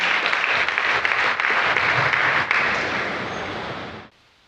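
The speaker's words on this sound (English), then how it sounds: "Please, let's clap loudly." Audience applause at a women's church gathering, a loud dense wash of clapping that carries steadily and then dies away abruptly at the end.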